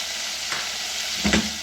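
Beef with red chillies fries in a pan with a loud, dense sizzle, broken by two quick stirring scrapes, the second stronger, heard close up.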